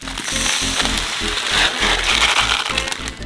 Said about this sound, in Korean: 냄비에 메밀 1kg을 붓고